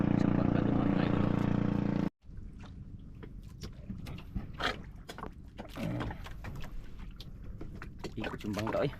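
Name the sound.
boat on the water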